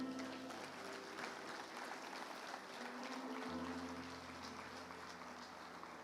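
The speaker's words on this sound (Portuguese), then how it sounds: "Dá glória a Deus, aplauda o Senhor." A church congregation claps together through a Portuguese-language evangelical prayer service, a faint, distant, steady wash of applause lasting several seconds without pause.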